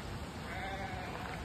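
Goats at a farm park give a faint, short bleat over quiet outdoor background noise, heard from a distance.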